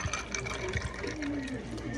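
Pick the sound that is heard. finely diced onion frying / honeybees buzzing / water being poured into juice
water being poured into juice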